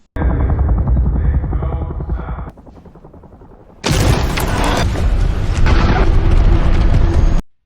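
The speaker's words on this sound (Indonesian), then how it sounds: "suara ledakan yang keras membuat semua orang kaget" Loud, dense booming explosion in a monster-invasion film scene, a heavy roar that drops briefly to a low rumble before a second violent blast bursts in and sustains until it cuts off.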